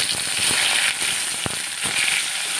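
Whole cumin seeds, a green chili and two bay leaves sizzle loudly in hot oil left over from frying papad, a dense continuous hiss with scattered crackles and pops close by.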